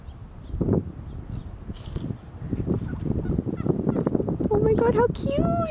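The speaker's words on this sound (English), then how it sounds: "Turkeys are majestic creatures" A wild turkey gobbling while it feeds, several short throaty calls rising toward the end, fairly close, mixed with rustling and a light voice in the background.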